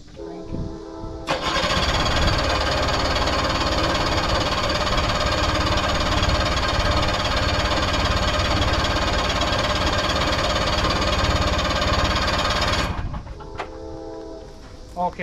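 A 6X6 Big MAX two-stroke amphibious vehicle cranks as it tries to start, giving a loud, steady mechanical churning that runs continuously for about eleven seconds before stopping.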